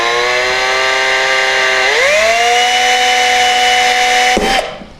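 A power drill bores through stacked wooden circles with a loud, steady whine that drops in pitch partway as the bit bites, then stops abruptly near the end.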